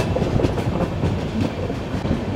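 A passenger train rolls over a wetland in hilly Northeast India, its wheels giving a continuous rumbling clatter heard from inside the carriage, loud and steady with faint rhythmic clicks.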